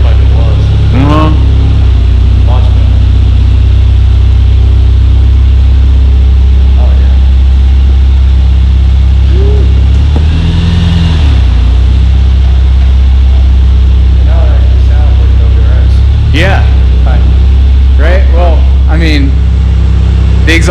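A Subaru Forester idles with an aftermarket exhaust, a loud, steady low rumble running throughout, while people talk over it intermittently.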